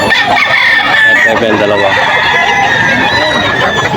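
Stag gamecocks at a Bocaue, Bulacan poultry market crow and cluck loudly and close by, with several overlapping calls under a voice speaking.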